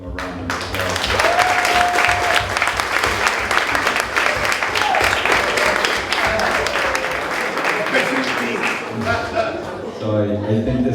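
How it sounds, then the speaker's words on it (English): An audience at an evening meet-the-artists event applauds the artists, long sustained clapping for about ten seconds with a brief tonal voice sliding over it, loud and close before it fades and talk resumes. "Let's give them a round of applause."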